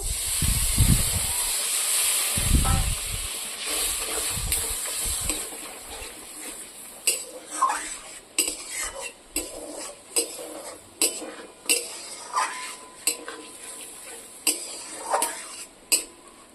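A mustard and poppy seed spice paste with turmeric and chili, for a bata fish curry, hisses and sizzles loudly in a pan at first, then quieter as a utensil scrapes it in steady, repeated strokes.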